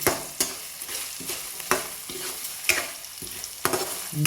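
Grated coconut with salt roasting in a pan for chicken curry, a steady dry sizzle broken by sharp scraping strokes of the spatula every second or so, close and alone with no talk.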